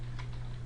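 Quick typing on a computer keyboard, a short run of soft, close key clicks over a low steady hum.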